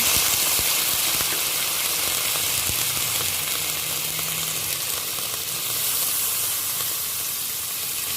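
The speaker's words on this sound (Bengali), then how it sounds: "এবার আমি জল দিয়ে দেব পরিমাণ মতো।" Water poured into a pan of well-fried spice paste for a potato, pointed gourd and egg curry, giving a steady, loud sizzling hiss with steam that holds evenly throughout, no voices.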